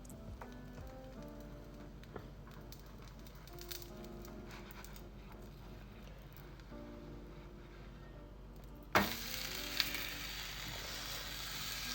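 A savoury pancake sizzles and crackles in a frying pan, a soft steady fry with faint clinks, then a sudden louder burst of sizzling near the end as it hits fresh heat.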